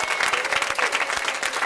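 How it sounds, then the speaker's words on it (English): An audience at a Washington Elementary School board meeting applauds the students, a steady, dense wash of clapping from many hands that holds evenly throughout. "Let's give them a round of applause, everybody."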